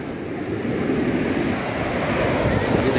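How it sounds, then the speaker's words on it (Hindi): Sea surf rolls and washes up the sand at Puri beach in Odisha, a loud, continuous roar of breaking waves mixed with wind buffeting the microphone. "ये हर 4 से 5 लहर के बाद पानी काफ़ी आगे तक आ जाता है।"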